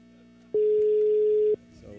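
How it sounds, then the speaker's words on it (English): A steady telephone tone sounds clearly for about one second, with faint background noise before and after. "So there's the dial tone."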